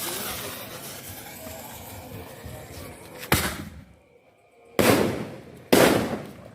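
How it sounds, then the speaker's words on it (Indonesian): Green double artillery Roman candle fireworks fire three loud, close bursts at uneven intervals after low background noise, each with a sharp crack and a short, sizzling decay. "double artillery colorful yang warna hijau. Siap kita nyalakan teman-teman."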